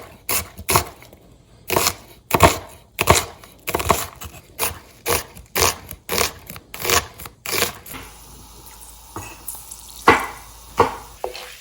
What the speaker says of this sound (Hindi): जो प्याज हैं उनको हम चॉप कर लेंगे।